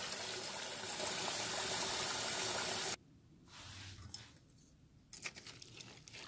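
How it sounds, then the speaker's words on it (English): Warm water runs and splashes as black-eyed beans for koki are rinsed in a kitchen bowl, a steady gushing pour for about three seconds, then quieter stirring and swishing with small splashes. "I put warm water to be a little bit fuller, and then I rinse it"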